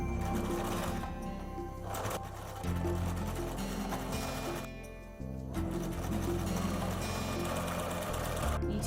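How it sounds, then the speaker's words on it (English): A sewing machine runs in steady, loud bursts while stitching a small girl's dress with a centimetre seam allowance, pausing briefly twice before whirring on again, with no talking. "Now I can sew it."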